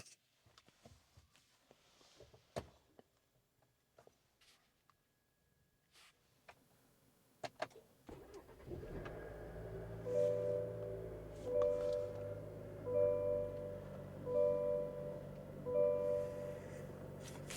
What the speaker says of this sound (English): let's go and get the truck started up.